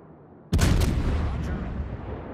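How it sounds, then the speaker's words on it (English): Naval gunfire in World of Warships: a sudden loud boom of shells landing, followed by a rumbling, sustained roar of explosions and distant firing, with a brief voice in the background. "that's an awful lot of high explosive shells coming from that direction"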